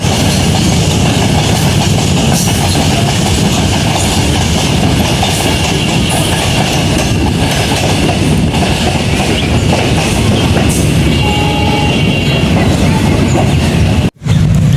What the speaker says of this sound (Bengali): আর গাইজ এখন ট্রেন আসতেছে